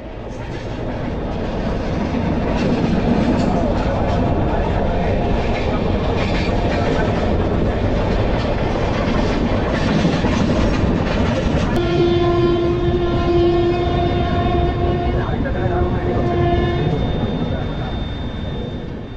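The 12245 Howrah–Bengaluru Duronto Express runs at speed with a loud, steady rumble of wheels on rails, and a long horn sounds partway through over the continuing noise of the train.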